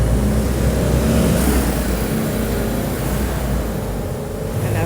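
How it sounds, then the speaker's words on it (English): A very loud bus rumbles past on a residential street in Merida lined with apartments, a heavy, close engine roar that stays strong for several seconds with no one talking. "And a very loud bus."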